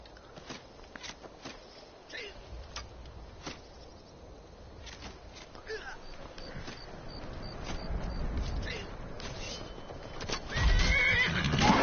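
A horse whinnies over a busy Skyrim game soundscape of shuffling, clopping hooves and scattered clicks, growing louder toward the end.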